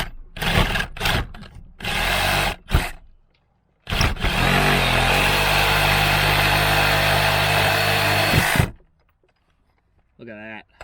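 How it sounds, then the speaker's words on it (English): An electric power sander works over an old wooden barn door, first in short loud bursts and then in one long steady grinding run, fairly close and loud, before stopping to quiet. "Now I can work on sanding this down."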